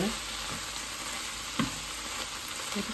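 Kale wara frying in a pan, a steady close sizzle with soft stirring scrapes throughout, no talk over it.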